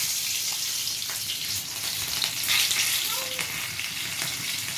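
Egg chops sizzle in a hot pan, a steady bright crackle with scattered pops that holds throughout at moderate loudness.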